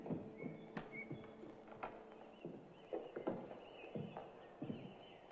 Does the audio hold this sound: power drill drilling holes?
no